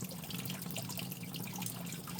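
Agate rocks from a polka dot agate mine being rinsed in a bucket of water, giving a soft, continuous splashing and trickling close by with no speech.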